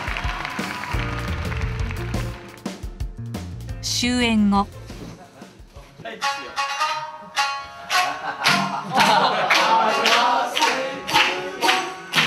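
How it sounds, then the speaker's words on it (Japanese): A Romanian audience claps in rhythm at the Nakamura-za kabuki theatre during the Sibiu International Theatre Festival, following a stretch of music; steady, loud clapping fills the final seconds while a voice talks over it. "中村座にルーマニアの人々の拍手が鳴り響きました"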